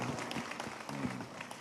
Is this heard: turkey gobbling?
no